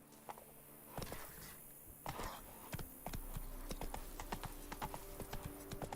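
Roach the horse trotting in The Witcher 3, hooves clip-clopping in a steady rhythm over ambient game sound, with a few scattered clicks.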